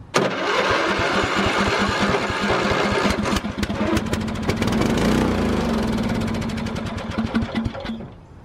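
A lawn mower engine running on fresh, clear gasoline sputters and fires repeatedly while trying to start, with loud, close, rapid chugging bursts that catch briefly, stumble and pop irregularly before fading toward the end.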